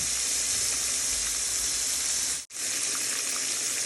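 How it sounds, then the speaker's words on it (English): Breaded pork chops frying in a pan for smothered pork chops, a steady loud hiss and sizzle that runs evenly with one brief cut-out, and no voices. "we're going to continue to let these pork chops cook"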